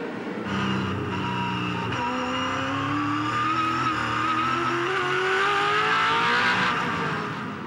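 2007 V8 Supercars race cars accelerate hard around Oran Park during a championship race. A loud, continuous engine roar climbs steadily in pitch, with several cars blending together up close.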